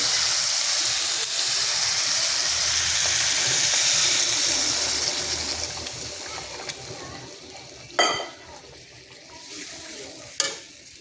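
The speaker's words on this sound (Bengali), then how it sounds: "এখন আমি জল দিয়ে দেবো" Water goes into sizzling, oil-separated masala with boiled potato for a katla fish head curry. A loud, close hiss and bubbling fills the first several seconds, then fades to a low simmer, broken by two sharp clattering knocks.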